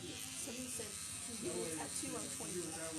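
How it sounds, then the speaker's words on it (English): A tattoo machine runs during a session with a constant, faint electric buzz under ongoing close conversation throughout. "Yes, I'm using a tattoo machine right now."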